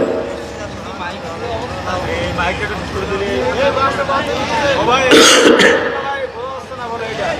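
A harsh throat clearing and cough from a preacher at an outdoor religious sermon burst out over a murmur of crowd chatter and speech.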